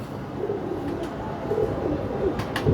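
Breeder pigeons coo close by in soft, low, rolling calls that repeat and overlap against steady background noise, with a few faint clicks.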